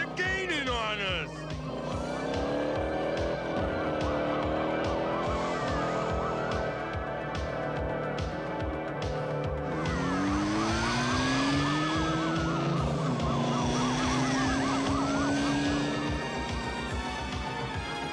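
Cartoon police car chase with wailing sirens, roaring engines and a crash, loud and busy throughout, with voices shouting over the racing vehicles.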